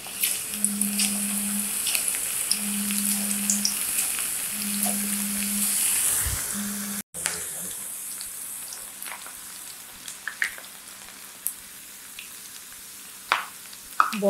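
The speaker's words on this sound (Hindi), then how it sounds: "अब मैं एक एक करके चिप्स डाल रही हूँ।" Potato chips fry in very hot oil with a dense, steady close sizzle, broken by a brief cut halfway through and a few small clinks, then a slightly quieter bubbling crackle, with no voices.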